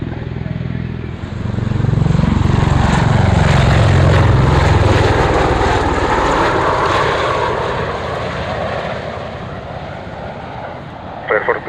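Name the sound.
aircraft engine starting at an airshow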